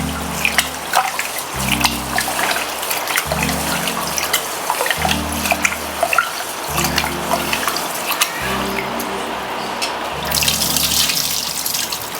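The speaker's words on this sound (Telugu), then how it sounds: "ముందుగా రైస్ కడిగించుకుందాం" Rice washed under a running kitchen tap: steady splashing water, with rhythmic low sloshing as the grains are swirled by hand, close and continuous.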